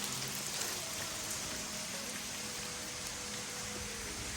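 Water dripping and falling inside a cave, a steady dense patter like rain with a constant hiss, close and unbroken, with no voices.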